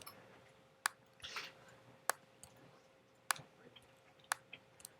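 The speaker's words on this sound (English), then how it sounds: "Click, shift click, click, shift click" Computer mouse clicks in a graphics program come as sharp, isolated taps roughly once a second, five in all, close and fairly quiet against a low background hum.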